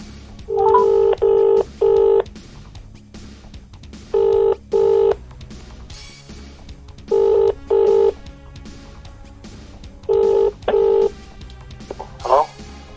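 Touch-tone dialing on a landline: several bursts of paired DTMF beeps in short clusters, separated by pauses with faint room hiss, ending with a brief rising tone as a call is placed to a classified-advert seller.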